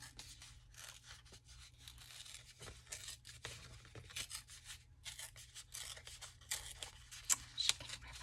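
Paper torn by hand during a craft session, giving soft, scattered ripping and crinkling bursts that grow a little sharper toward the end, heard alone and fairly quietly over a low steady hum.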